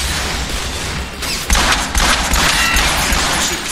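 Sustained, dense weapon fire and blasts in Transformers: War for Cybertron, with loud, overlapping bursts and booming impacts from a Decepticon battle that continue unbroken from start to finish.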